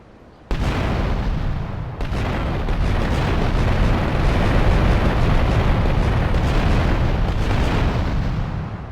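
A rigged car explodes outside a casino in a Grand Theft Auto game, a sudden loud blast followed by a second burst and a long, roaring rumble of fire and debris that sustains without voices.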